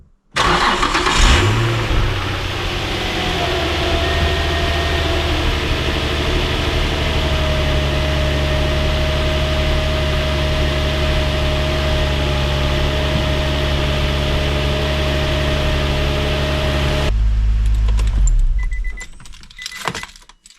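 A Nissan VQ-engined G35/350Z starts up after an oil change and settles into a smooth, steady idle close to the microphone, holding evenly before cutting off near the end; no one speaks.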